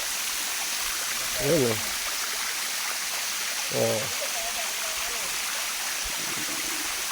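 Water rushes steadily over rocks at Yaganak Falls in Calauag, Quezon, a broad constant hiss of the flowing stream filling the scene, with brief voices speaking up over it now and then.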